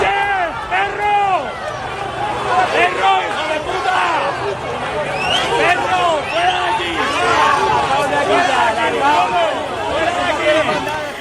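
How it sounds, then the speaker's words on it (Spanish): An angry crowd shouting, hurling insults and booing at an official delegation, many overlapping raised voices jeering and yelling close by in a loud, sustained roar. "cayó sobre ellos una lluvia de gritos, insultos y abucheos"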